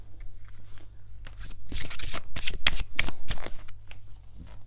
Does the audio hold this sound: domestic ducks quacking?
no